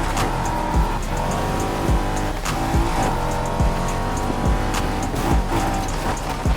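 A Honda NSX races in Need For Speed Heat, its engine a steady loud drone with rhythmic gear shifts and tire noise, close and continuous without talk.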